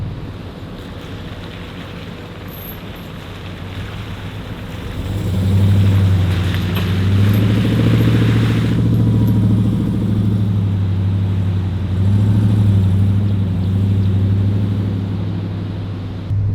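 An off-road vehicle drives along the sandy beach of Fraser Island with a steady, loud engine drone that swells after a few seconds and holds, under constant wind and surf-like rush.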